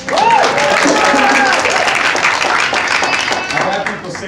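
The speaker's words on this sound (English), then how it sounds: "Give her a round of applause." Steady applause from a crowd, dense clapping that holds loud for several seconds, with a few voices mixed in, then eases slightly toward the end.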